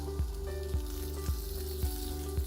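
Peaches sizzle steadily on a hot grill, with soft regular thumps about every half second over a constant low hum.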